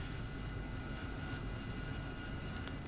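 A jet aircraft taxis on a carrier deck, its engine producing a steady, continuous roar and whine that holds level and fairly distant with no speech.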